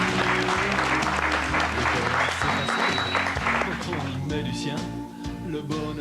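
Studio audience applauding the singer, loud clapping under music and a host's voice, thinning toward the end.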